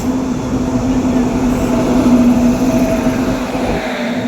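A train at a railway station platform produces a continuous close rumble with a droning low tone that holds steady and eases slightly near the end.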